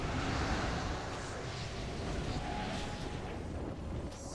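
Explosions boom continuously during a combat scene, a loud dense rumble of blasts that stays full and sustained throughout with no clear pauses.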